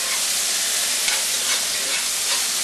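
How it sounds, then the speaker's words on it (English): Beef sizzles steadily as it stir-fries and sears in a hot pan with garlic, a dense continuous hiss with faint stirring scrapes, close and alone without talk. "We're gonna stir fry this beef and get it seared on all sides."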